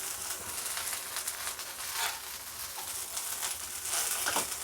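Coriander leaves sauté in a pan, making a continuous close crackling sizzle with occasional stirring rustles that swell toward the end, and no talking.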